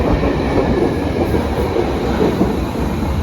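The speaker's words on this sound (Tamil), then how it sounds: "இந்த ட்ரெயினில் தான் இப்போ நம்ம போகிறோம்." A Vienna U-Bahn metro train at the station gives a steady, loud broadband rumble of rolling cars and rail noise, continuous throughout with no speech.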